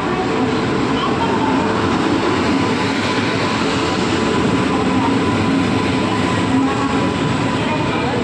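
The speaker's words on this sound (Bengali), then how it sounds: "ট্রেন চলে যাচ্ছে, ট্রেন চলে যাচ্ছে, এই ট্রেনেই আমরা যাবো বাবা" A train rolls past a station platform, its rumble and wheel clatter loud and steady throughout, with a faint hint of voices beneath.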